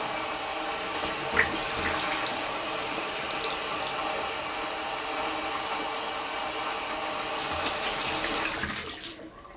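Steady rush of tap water running into a sink while a glass measuring flask is rinsed, close and continuous for several seconds before cutting off at the end.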